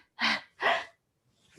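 A performer rehearsing a vocal phrase makes two sharp gasping inhales in quick succession, close and loud, each followed by silence.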